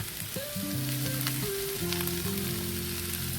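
Pond fish pittu fries in a pan with turmeric, salt, chili powder and masala, sending up a steady close sizzle while tonal background sounds drift beneath it.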